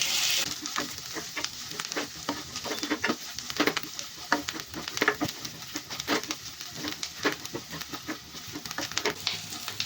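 Thick onions fry in a pan for an Indian aloo masala palya, a steady close sizzle with crackling pops and occasional stirring scrapes. No talking is heard.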